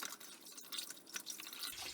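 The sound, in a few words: rinse water poured over a bore snake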